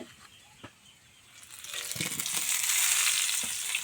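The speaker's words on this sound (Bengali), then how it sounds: "আলুগুলোকে আমি লাল লাল করে ভেজে নিচ্ছি, আগে তেল দিয়ে তারপরে ভেজে নিচ্ছি" Potatoes frying in oil give a hissing sizzle that swells from quiet to loud and steady partway through, close by, with a few faint knocks early on and no speech.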